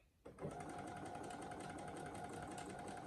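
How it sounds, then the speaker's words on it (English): A sewing machine set up with an embroidery hoop, in a comparison of a Brother 1034DX serger and a Brother SE1900, starts after a short quiet moment and then runs in a steady continuous buzz with no voices over it. "let me see if I could even just sew a couple of stitches on here"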